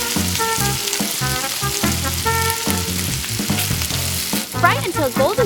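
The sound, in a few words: meat frying in hot oil in pan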